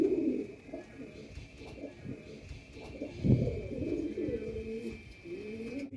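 Jack Black Madrasi pigeons coo in low, throaty rolling calls, several birds overlapping close by in repeated bursts with brief pauses between phrases.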